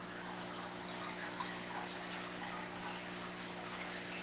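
Water circulates through the filter of a 10-gallon aquarium and down through its gravel medium, making a faint, steady trickle over a low electrical hum with no voices.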